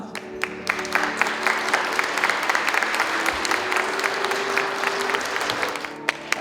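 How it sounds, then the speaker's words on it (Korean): Wedding guests applaud in a continuous, even wash of clapping from many hands, fairly close and sustained throughout, with no talking. "큰 박수 부탁드립니다."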